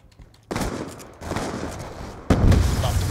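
Heavy shotgun blasts in Call of Duty Black Ops 2, a long-barrel shotgun firing two or three loud, booming shots close by, each with a short rolling tail.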